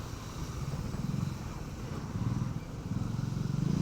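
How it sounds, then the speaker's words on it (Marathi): Motorcycles pass along a road at night, a continuous rumbling engine drone that swells and fades in pulses as bikes go by at moderate distance, with no talk. "बाईक जात आहेत"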